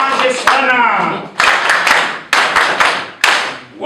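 An audience claps for the chairman at a public gathering in Ankole. Applause surges in several loud waves that swell and fade, with a voice speaking briefly at the start.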